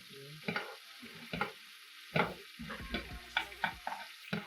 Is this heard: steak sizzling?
yes